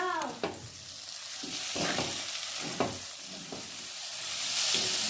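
Chickpeas being stirred with chana masala spice in a hot frying pan for chole, a steady sizzle with repeated scraping strokes of the spoon every second or so, close and continuous, with no talking.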